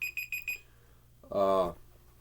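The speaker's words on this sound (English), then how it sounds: "Oh, that's my timer." A timer alarm beeps four times in quick succession, fairly loud, then falls silent; after a short pause a voice briefly speaks.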